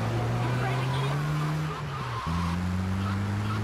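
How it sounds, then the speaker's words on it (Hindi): Car driving in the video game GTA 3, with a steady engine drone that dips briefly and then resumes at a higher pitch, loud and continuous throughout. "यहां से राइट लेता हूं गाड़ी,"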